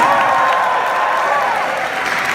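Brief burst of applause and cheering from a fan convention crowd, dense clapping with shouts blended in, loud and continuous.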